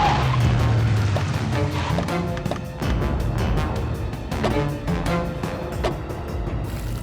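A car braking hard to a stop, tires screeching loudly and continuously over a revving engine, up close and alone with no talking.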